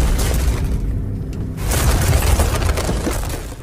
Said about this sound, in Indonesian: bom itu pun meledak sehingga membuat jembatannya retak